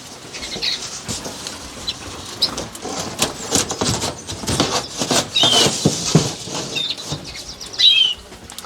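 Caged birds, including canaries, flap their wings in a flurry of irregular fluttering bursts as they are caught by hand in a bird room, with faint chirps and cage rattles around the wingbeats.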